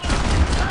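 A short, dense burst of gunfire from the video game Max Payne 3, loud and close, filling the whole moment.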